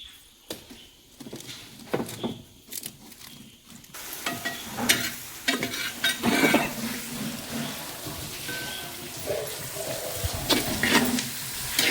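Chopped onions frying in a pan for a Kundapur chicken gassi, a soft sizzle that grows louder after a few seconds, broken by repeated scraping and stirring knocks, with no talk.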